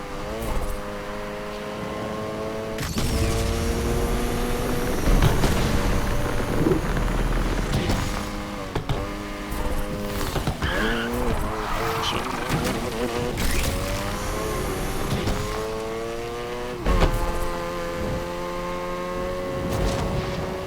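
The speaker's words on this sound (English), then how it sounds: "Yeah, this totally sounds different. Because of that Wankel rotary engine." A Wankel rotary engine car in Need for Speed Unbound revs hard and close, its buzzing tone climbing through gears with sharp shifts and repeated throttle surges, loud and alone.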